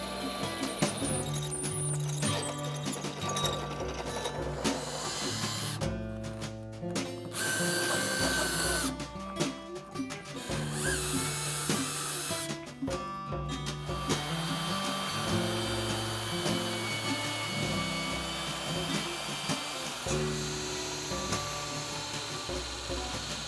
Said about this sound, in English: I do have some flat aluminum bar stock, so I'm gonna cut this into pieces here